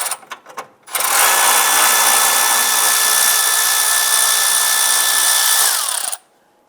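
Power tool loosening a 10mm bolt on the fog light bracket of a 2002-2008 Dodge Ram 1500, a steady loud whir running about five seconds after a few brief clicks, then stopping abruptly.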